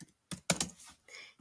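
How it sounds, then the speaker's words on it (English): Quick bursts of typing on a computer keyboard, a few close, sharp key clicks in uneven clusters with short pauses between, heard alone without any talking. "you're going to type lettuce"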